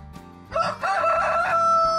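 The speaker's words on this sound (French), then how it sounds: "un coq lança un puissant" A rooster crowing once, loud and close, a single drawn-out cock-a-doodle-doo rising after a brief cluck.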